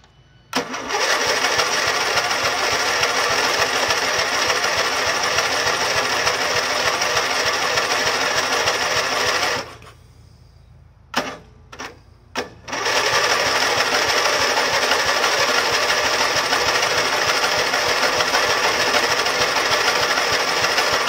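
An old Snapper mower, unused for five years, cranks over with a loud, buzzing, steady chatter that runs for several seconds, stops with a few short bursts, then resumes and continues.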